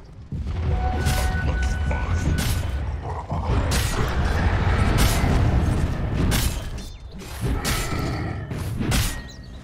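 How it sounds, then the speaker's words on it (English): The Dire bottom tower takes fire in Dota 2: heavy booms, thuds and mechanical creaks and crashes pile up in a dense, loud barrage, with a faint voice briefly mixed in. "Dire's bottom tower is being attacked"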